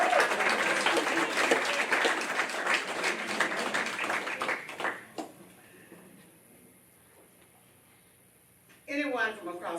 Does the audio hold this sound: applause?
yes